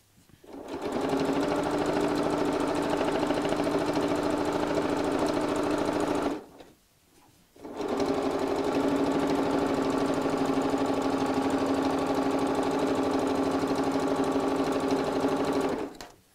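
A sewing machine stitches a purse in a steady, rapid whir that runs for about six seconds, pauses briefly, then resumes and runs to the end.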